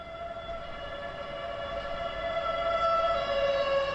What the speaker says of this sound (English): We got some sirens happening in the background too,